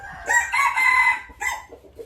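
A rooster, a Thai fighting cock, crows nearby, a loud drawn-out call followed by a shorter final crow.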